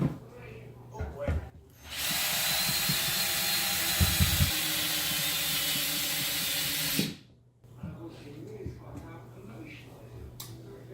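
A power drill drives a screw up into a ceiling stud indoors, one loud continuous whir of about five seconds with faint voices before and after.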